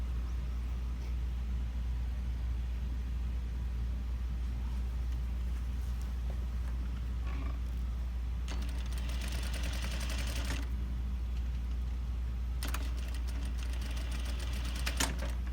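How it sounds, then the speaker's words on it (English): A sewing machine stitching fabric for a batwing-sleeve garment, a steady low motor hum with two bursts of rapid needle rattling near the end, no one speaking. "So now I will sew next to my stitching."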